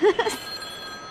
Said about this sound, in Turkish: Halis telefon. Boş ver çalsın.